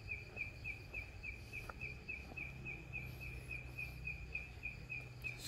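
Night chorus of frogs on Phu Quoc Island, Vietnam, heard faintly and at a distance: a steady, evenly pulsed chirping repeats throughout over a low background hum.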